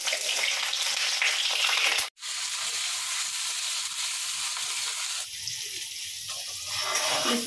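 Pointed gourd frying in mustard oil in a kadai, a strong, steady close-up sizzle that cuts out abruptly for an instant, then resumes and eases slightly toward the end.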